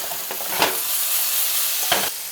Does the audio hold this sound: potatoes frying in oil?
yes